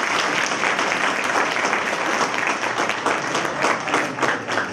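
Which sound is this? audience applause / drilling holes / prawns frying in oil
audience applause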